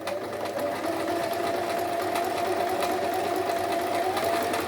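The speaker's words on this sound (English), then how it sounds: "hold these together and sew over" A sewing machine stitches around an appliqué fabric bag, running steadily and continuously at close range with a whirring motor hum and no talking.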